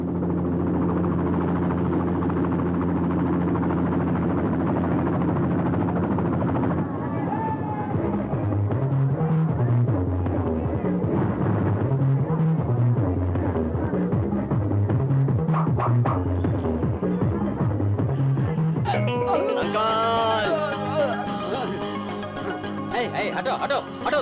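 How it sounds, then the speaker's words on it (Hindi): A helicopter arrives in an Indian film scene, its steady throbbing rotor drone running throughout beneath a loud musical score, with voices breaking in. "हेलीकॉप्टर से आप आए?"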